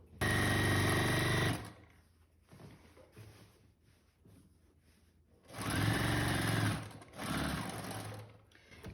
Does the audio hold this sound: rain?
no